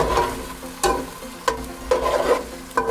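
Whole green chillies drop into a pan of sizzling masala for chana pulao, a steady frying hiss broken by several sharp bursts of louder spitting and stirring as the chillies hit the hot oil.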